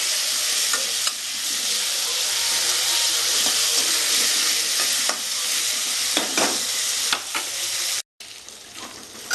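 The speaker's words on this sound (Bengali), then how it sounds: "আলুটাও লাল লাল করে ভেজে নেবো আর তেল দেবো না এটাই ভাজবো একটু তেলটা গ্যাসের ফ্লেম কমিয়ে দিয়ে ভাজবো" Potatoes fry in a little oil in a pan over a lowered gas flame, a loud continuous sizzle and hiss with stirring scrapes throughout, briefly cutting out near the end.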